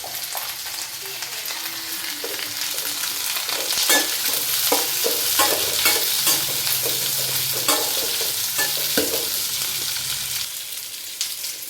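Capsicum and curry leaves stir-fry in a hot pan, with a continuous loud sizzle and repeated scraping and stirring strokes throughout. No speech.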